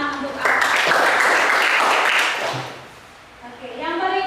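Classmates give a brief round of applause for a student in a classroom, a burst of close clapping lasting about two seconds. Voices talk before and after it.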